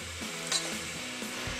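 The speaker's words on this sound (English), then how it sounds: "You need to fry them off for about a couple of minutes or so." Garlic and onions frying in olive oil for a vegetable chilli, a steady close sizzle with light stirring and a faint clink or two, no voices.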